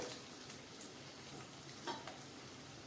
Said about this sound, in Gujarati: ગુંદાને આ રીતે આપણે સાંતળી લીધા છે